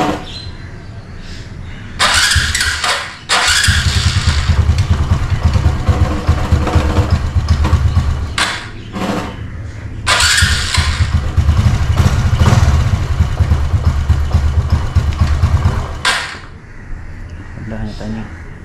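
A Honda Wave 125 motorcycle with a 57mm setup starts up in a workshop, its engine revving in bursts and settling into a steady idle across several runs, with short pauses between, loud and close.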